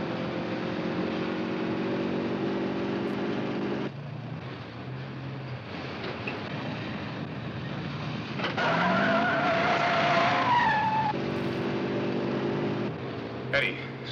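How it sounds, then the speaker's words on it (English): A speeding car in a 1958 B-movie has its tires squealing in a long skid over steady engine noise, the screech rising loudly midway, and a brief crash-like burst near the end. "stop the car. You're driving too fast."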